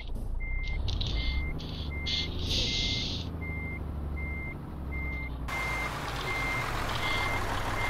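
A truck in Euro Truck Simulator 2 sounds evenly spaced reversing beeps over a low, rumbling engine drone, the beeping steady and repeated throughout with a brighter hiss of air joining partway.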